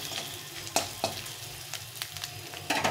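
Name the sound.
stirring cumin and chili powder spices in a pan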